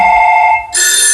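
A loud electronic telephone ring sounds up close, a sustained trilling tone that cuts off briefly and then comes back at a brighter, higher pitch.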